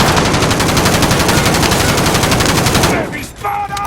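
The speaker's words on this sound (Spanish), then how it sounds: "¡Me disparan!" Call of Duty gunfire, a loud, rapid machine-gun burst with steady rhythmic shots for about three seconds, then breaking off into quieter scattered sounds.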